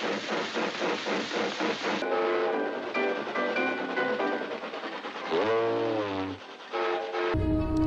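Cartoon train sound effects: a rhythmic chugging clatter, then a sliding tonal horn-like whistle near the end, loud and continuous with no speech.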